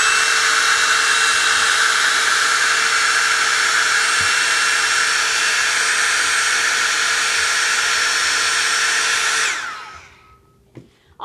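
A hair dryer blows steadily and loudly on a fused glass piece for about nine seconds, then switches off and its whine winds down, leaving near silence.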